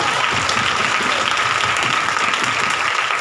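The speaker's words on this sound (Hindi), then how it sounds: "जोरदार ताली बजाते।" A church congregation at a Hindi Bible study clapping loudly, a thick, constant burst of many hands that stays strong and unbroken from start to finish.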